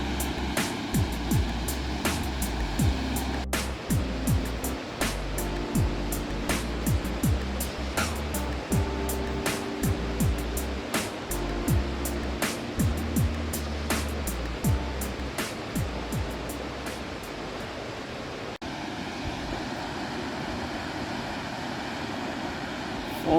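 A waterfall at Little River Canyon runs as a slow trickle in a dry spell, giving a steady rushing wash of water with scattered sharp splashes and knocks over it, close and fairly loud.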